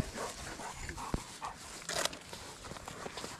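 A hunting dog trots back to its handler on rural property, with quick, close patters of paws and footsteps, light rustling and a few sharp clicks, fairly faint and with no talking.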